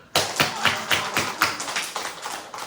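Congregation at a Wednesday church worship service clapping hands together in unison, a quick, even rhythm of sharp, close claps, roughly four per second, with no talking.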